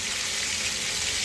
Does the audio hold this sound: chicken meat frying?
yes